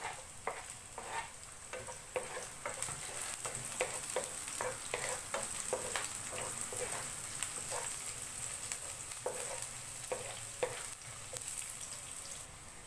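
Garlic sautés in a pan, giving a steady, soft sizzle under repeated scraping stirs from a utensil, moderately close and with no voices.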